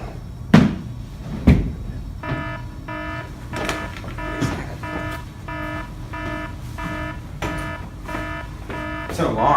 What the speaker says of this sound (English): It's an alarm. Gotta get out.